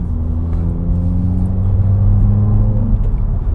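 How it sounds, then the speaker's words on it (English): A 2016 Subaru WRX accelerates hard, its engine drone climbing loud and close from inside the car with a brief dip at a gear change, no talking heard. "I can't believe how quick I'm changing gear."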